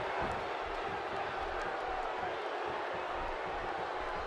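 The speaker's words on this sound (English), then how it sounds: "This is an electric crowd here tonight, and we're hearing from them every time these competitors make a move." Steady crowd roar and cheering from the WWE 2K16 wrestling video game, a dense continuous wash of arena noise at moderate level with no clear breaks.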